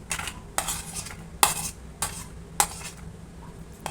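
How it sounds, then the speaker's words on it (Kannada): Moong sprouts and cucumber pieces tipped into a salad bowl, several sharp clinks and scrapes of a spoon against the bowl at irregular intervals over a faint hum, close by and without speech. "ಹೆಸರು ಕಾಳು ಹಾಕ್ತಾಯಿದ್ದೀನಿ. ಸೌತೆಕಾಯಿ ಹಾಕ್ತಾಯಿದ್ದೀನಿ."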